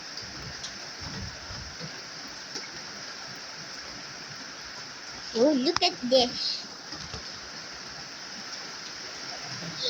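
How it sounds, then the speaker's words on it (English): Heavy rain falling outdoors, a soft steady hiss throughout, with a child's brief exclamation over it partway through. "Oh my gosh, the rain is stronger."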